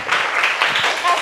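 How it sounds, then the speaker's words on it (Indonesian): Children in a classroom clap together as applause, a dense, continuous patter of many small hands lasting just over a second, with some voices mixed in. "tepuk tangan buat kita semua, yuk."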